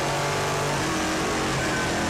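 A V8 muscle car engine at a race meeting holds a loud, continuous, close rumbling rev with a strong low drone, heard alone without talk.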